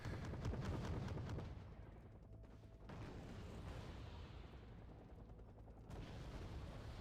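Rapid, heavy 50mm cannon fire in the video game Wargame: Red Dragon, a dense burst of booming shots at first, then continuing rumbling gunfire and low engine noise throughout.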